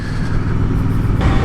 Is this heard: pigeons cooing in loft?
no